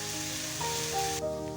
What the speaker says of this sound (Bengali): দিয়ে দেব কুচনো পেঁয়াজ। পেঁয়াজটাকে লাল লাল করে ভেজে নেব।